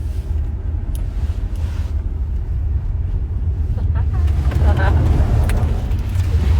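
A Wuling Almaz RS Pro car drives through a stability test, a deep steady road rumble and engine drone inside the cabin, swelling louder near the end, with people talking over it.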